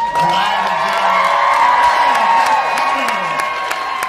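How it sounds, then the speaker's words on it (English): A live audience cheers and claps like fans greeting a favorite artist, a dense continuous roar of whoops and applause held at full volume throughout. "give them that kind of applause"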